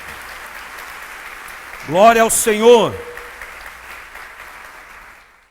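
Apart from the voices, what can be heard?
church congregation applause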